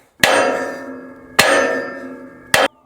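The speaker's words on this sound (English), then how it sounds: "I probably look really athletic swinging this hammer." A hammer is swung and lands three loud, sharp metallic strikes about a second apart, each ringing briefly before fading, up close and with no voices.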